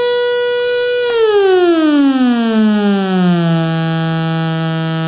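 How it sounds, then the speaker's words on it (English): Homemade synthesizer VCO putting out a triangle wave, a loud steady tone that bends smoothly downward in pitch over a couple of seconds and then holds a lower note, heard alone. "We can also try the triangle wave output,"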